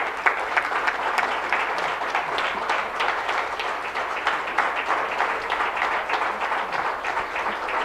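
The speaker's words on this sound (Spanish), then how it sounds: "Denle un fuerte aplauso a Dios." A congregation at a Spanish-language church service breaks into sustained applause, a thick wash of many hands clapping steadily at an even level for around eight seconds.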